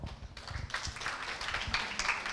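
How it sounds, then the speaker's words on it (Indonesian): Audience at a university energy-policy talk applauds a speaker, a moderate burst of scattered clapping from a smallish group, fairly quiet and continuous over the short span. "Baik, tepuk tangan buat Pak Agung."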